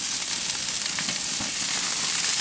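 Mushroom and Swiss burgers sizzle steadily on a gas grill, a dense continuous crackle of frying fat with faint pops, close and loud with no talk.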